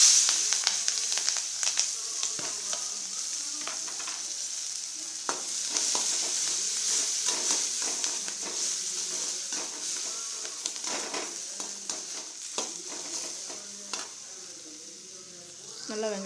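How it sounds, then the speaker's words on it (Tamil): Chopped onion, green chili, ginger and garlic sauté in a pan for a Tamil egg poriyal, a continuous close sizzle with frequent spoon stirs and scrapes and no speech. "நல்லா வெங்காயத்தை வதக்கிக்கலாம்."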